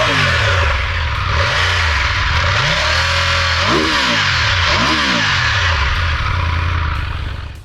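A 2022 Triumph Tiger 1200 Rally Pro motorcycle engine revs repeatedly up and down, with rising and falling pitch sweeps over a loud, close, steady growl and no talking.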